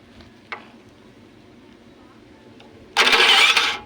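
A Blackstone generator's engine, its starter motor shorted across two bolts, fires up abruptly after a quiet pause with a small click, then runs loud and close.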